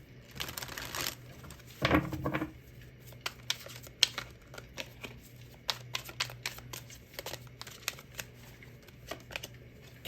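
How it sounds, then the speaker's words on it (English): Crisp riffling of a tarot deck being shuffled, with a burst near the start followed by scattered light taps and flicks, close and fairly quiet. "You saw me shuffle that."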